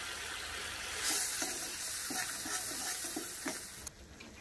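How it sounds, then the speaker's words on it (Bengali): Spice paste with turmeric and dry chili paste fries in oil for a village-style fish curry, giving a bright, hissing sizzle throughout, with soft rhythmic stirring taps from the pan in the middle. "আমি আরো 3 মিনিট মতন মশলাটাকে ভালো করে ভেজে নেব"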